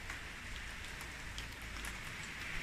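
Steady rain on a misty day falls in a soft, even hiss on surfaces, with faint scattered drops and no voices.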